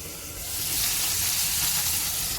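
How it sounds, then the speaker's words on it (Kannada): Bangude mackerel pieces coated in masala fry in a pan, giving a loud, steady, crackling sizzle that swells slightly and holds throughout with no voices. "ಮಸಾಲೆ ಹಾಕಿ ಅದನ್ನೀಗ ಫ್ರೈ ಮಾಡಲಿಕ್ಕೆ ಇಟ್ಟಿದ್ದೇನೆ"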